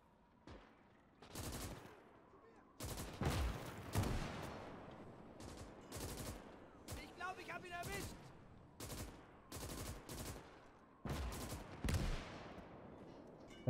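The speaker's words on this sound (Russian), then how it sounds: "Сейчас постреляем немножко" Mounted gun fire in the WWII game Gates of Hell: Ostfront, heavy repeated bursts and single booming shots in irregular clusters across the whole stretch, with distant battlefield crackle between them.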